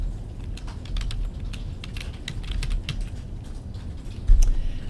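Continuous typing on a computer keyboard while text is entered into a PowerPoint slide, a steady close clatter over low background hum with no speech.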